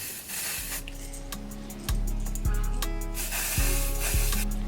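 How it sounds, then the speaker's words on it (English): Medium dark brown colour spray hisses onto the top layer of a pre-cut lace wig in a few long, loud, steady bursts close by, each starting and stopping sharply, with a constant hum beneath. "And I'm gonna spray a little bit on the top layer too"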